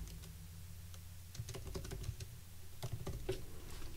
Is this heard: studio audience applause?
no